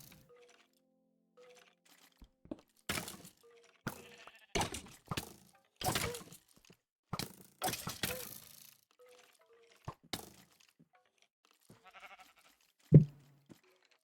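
A sheep in a video game gives several short bleats spaced a few seconds apart amid quiet, with one sharp crack close to the end.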